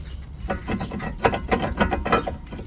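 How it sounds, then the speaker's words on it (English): Lug nuts being taken back off a car wheel during a brake and rotor job, heard as a run of close mechanical ratcheting clicks and metallic rubbing, fairly loud and steady over about three seconds with no talking. "So anyway, you take your lug nuts back off."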